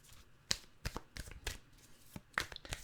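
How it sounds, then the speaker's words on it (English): Tarot cards being shuffled by hand in a quiet room, giving a series of short papery riffles and slaps with a louder snap near the start and another near the end. "so we're going to shuffle the cards here"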